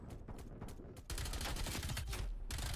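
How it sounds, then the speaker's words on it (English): Sentry gun firing in the shooter game Black Ops Cold War, a rapid burst of automatic gunfire that starts sparse, then turns into a dense, continuous rattling volley. "He has a sentry gun."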